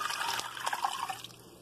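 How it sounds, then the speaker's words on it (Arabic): A cup of water tipped into a hot pan of chicken, a brief close splashing pour with fizzing trickles that thin out and die away within a second or so. "راح اخلي بيه كوب ماء"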